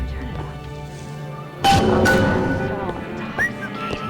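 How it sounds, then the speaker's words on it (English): A character whistles in BioShock Infinite: Burial at Sea, a thin tonal melody set against game ambience and clatter, with a sharp crash partway through and voices murmuring in the background. "What you whistling for? You ain't a bird?"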